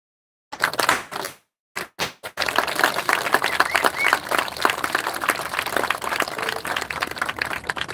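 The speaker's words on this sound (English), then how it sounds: "I want to give you all a round of applause" Outdoor audience applause at Stone Mountain, beginning with a few separate sharp claps and then rising into a continuous dense patter of many hands that lasts to the end.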